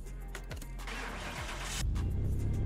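A car engine being started in Car Mechanic Simulator 2021, a cranking starter churning briefly before the engine catches and settles into a louder steady idle, close and clear.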